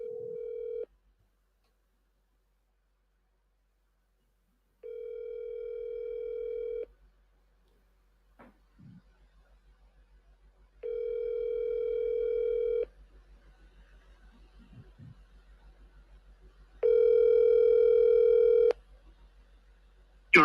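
A telephone call rings out in steady electronic tones, about four long evenly spaced signals separated by silent gaps, clear and close as if heard through a phone speaker.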